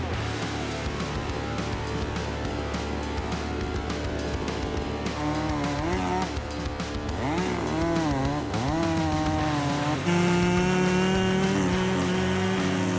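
A chainsaw cuts through a tree trunk, its engine whining loud and continuous with pitch rising and dipping as the throttle changes under load.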